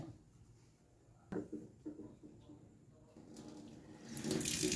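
Cupping equipment rinsed under a running tap after a hydrogen peroxide spray, a quiet stream of water with a few soft clatters of items handled in the flow, growing louder and splashier toward the end.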